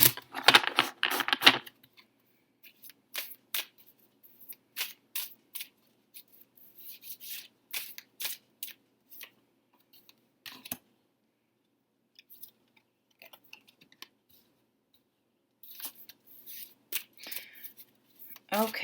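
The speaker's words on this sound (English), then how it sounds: "I'm going to shuffle. This can be loud," Tarot cards are shuffled in repeated crisp riffling bursts, loudest at the start and then in scattered clusters with pauses between them, close up and alone.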